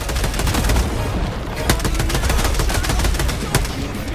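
Liberator Concussive rifle fire in the Helldivers 2 video game, a dense, loud stretch of rapid shots and booming impacts that runs almost without a break.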